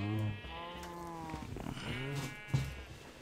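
Blocky Minecraft cows moo in a low, drawn-out way, several calls overlapping at close range while someone talks over them.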